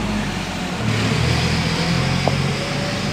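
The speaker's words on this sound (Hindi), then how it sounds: "साथ ही रोड है तो इस वजह से ट्रैफिक जो है चल रही है, आवाज़ें आ रही हैं।" Road traffic passes beside a garden, with a car engine droning and building as a vehicle goes by nearby, steady and loud throughout, no talking.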